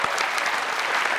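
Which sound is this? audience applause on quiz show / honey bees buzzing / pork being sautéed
audience applause on quiz show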